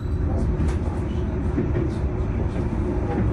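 A high-speed passenger train departs Baku railway station bound for Qazax, heard as a continuous low rumble and rolling rail noise, steady and fairly loud throughout.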